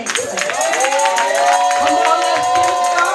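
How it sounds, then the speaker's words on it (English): A church congregation claps hands together in a steady rhythmic beat, loud and close, with crowd noise and voices mixed in. "Let's give God a hand clap."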